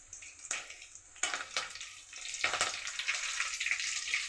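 Cumin, garlic, green chillies and curry leaves sizzle in hot oil for a spicy dal tempering, a steady crackling hiss with sharp pops and bursts, close and fairly quiet, no voices.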